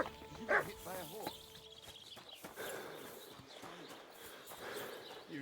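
A dog in Kingdom Come Deliverance 2 barks a few quick, sharp yelps near the start, with horse hoof clops and ambient game sounds around it and a voice speaking briefly.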